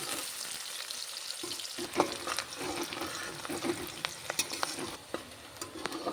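Onions fry in a pan for a mutton curry, a steady close sizzle broken by repeated scraping stirs of a spatula against the pan.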